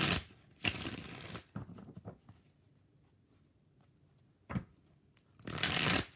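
Tarot cards being shuffled, three or four brisk riffling bursts separated by quiet pauses and small handling sounds, close and alone.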